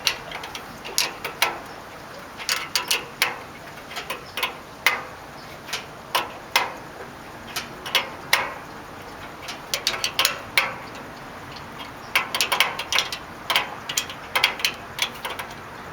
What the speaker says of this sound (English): now we're going to go in with the wrench